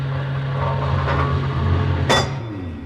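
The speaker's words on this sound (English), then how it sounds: "the sound you can hear is the solar generating plant" Steady low electrical hum of a solar generating plant inside a moon station, loud and continuous, with a couple of brief clinks and a sharp metallic knock laid over the drone.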